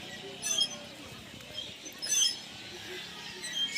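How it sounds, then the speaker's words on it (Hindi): Small birds chirp and tweet in short, scattered bursts at moderate distance over a faint background hum. "इतना मस्त चिड़िया के आवाज़ आते चू चू चू चू"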